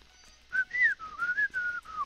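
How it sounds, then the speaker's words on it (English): A person whistles a short wavering tune alone, several connected notes rising and falling over about a second and a half, fairly close and clear with no talking. "I can't whistle right now"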